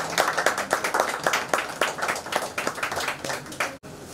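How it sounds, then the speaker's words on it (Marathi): An audience applauds honoured SSC and HSC students at a felicitation ceremony in Pali, with dense, steady clapping that carries near and lively for several seconds before stopping abruptly. "जोरदार टाळ्यांचा गजर होऊ द्या सर्वांसाठी."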